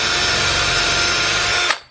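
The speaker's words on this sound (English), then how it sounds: "Drill straight in." A power drill bores straight into wood, its motor whining loud and steady for nearly two seconds before it abruptly stops.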